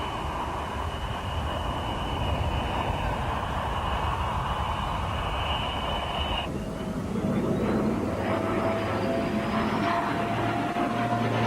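Display aircraft throwing itself through aerobatics at Biggin Hill air show, a sustained engine roar with a steady high whine that cuts off abruptly partway, then a changing, rising drone with rumble, heard at a distance.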